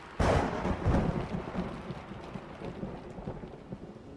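A heavy thunderstorm opens with a loud crack and rolling rumble of thunder, then settles into a dense, steady roar of pouring rain.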